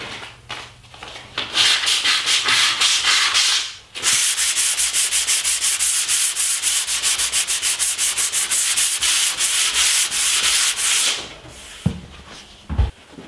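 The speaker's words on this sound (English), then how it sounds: "I can sand the frame. I'm using 150 grit silicone carbide paper." Hand sanding a primed and filled flat-panel wooden frame with 150 grit silicon carbide paper: close, loud rhythmic back-and-forth rasping strokes in sustained bursts, pausing briefly midway and ending with a few light knocks.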